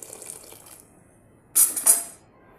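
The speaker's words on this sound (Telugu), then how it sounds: "ఇందులో వాటర్ అనేటివి వేసుకున్నాం" Water is poured into a pot of cleaned, chopped potatoes and onions as a cooking base. A soft trickle is followed by a brief, brighter splashing burst before it trails off.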